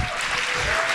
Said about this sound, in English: Can we have another round of applause to everyone?